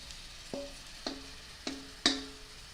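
Meat, onions and broccoli stir-fried in a pan: four evenly spaced metallic clinks of a utensil against the pan, the last one sharpest, over a faint quiet background.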